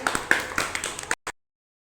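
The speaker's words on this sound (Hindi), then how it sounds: "सब लोग ताली बजा दो इसके लिए भाई।" Children clapping in a brief, uneven burst of small claps, close and fairly loud, ending with a last couple of isolated claps before silence.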